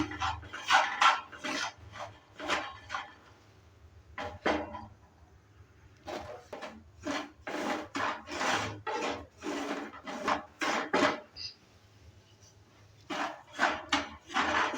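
Semolina is dry-roasted in a wok over low to medium heat. A spatula stirs it in quick bursts of rhythmic scraping strokes, close and fairly loud, with short pauses between runs.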